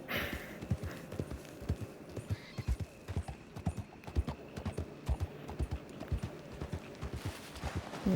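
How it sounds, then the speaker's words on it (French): Horse hooves clip-clop steadily in Red Dead Redemption, a horseback ride in a Western game, with even, repeated near footfalls, a faint whinny and occasional light background sound. "C'est épuisant ce trajet en cheval."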